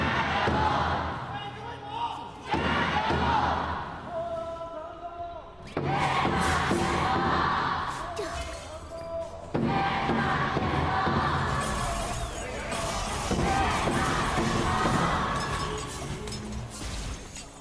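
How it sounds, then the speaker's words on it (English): Esports crowd at the KPL summer playoffs cheering loudly in surging waves, with thumping drums and a commentator's voice running underneath. "we want to hear the audience cheer"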